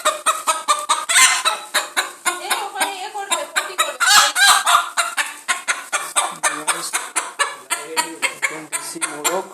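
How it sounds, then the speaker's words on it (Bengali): Desi chickens and a rooster cluck in a close, busy flurry, with repeated short calls overlapping throughout. A voice briefly calls out between the bird sounds. "গাইস দেশি মুরগি নিয়ে এসেছি"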